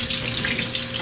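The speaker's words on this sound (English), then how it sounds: "So the first step is to turn the water on." Water running steadily from a tap into a sink for handwashing, a loud continuous hiss and splash with no breaks, heard alone.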